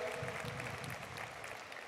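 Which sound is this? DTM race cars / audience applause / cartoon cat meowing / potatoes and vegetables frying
audience applause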